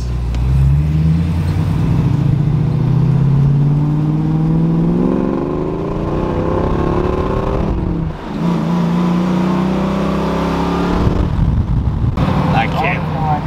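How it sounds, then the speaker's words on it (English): A car at a Hot Rod Power Tour event does burnouts. Its engine revs in loud, close, rising and falling surges with a brief dip midway, and people talk under the noise. "Burnouts."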